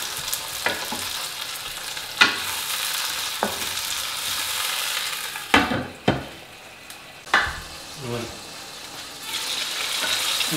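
Tomatoes cook down in a kabab karahi at a Pakistani street food stall, a steady frying sizzle broken by several loud metallic stirring scrapes and clanks.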